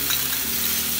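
Hot oil sizzles and crackles in a non-stick pan during frying, a loud, steady, close hiss heard alone for about a second.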